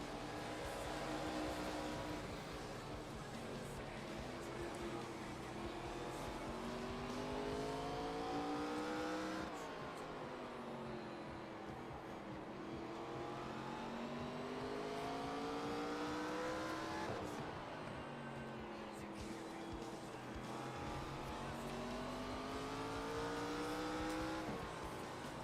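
Race car engines on a dirt track rev and wail in repeated rising sweeps as the cars accelerate down the straights and ease off into the turns. The engine noise is loud, continuous and alone, with no voices over it.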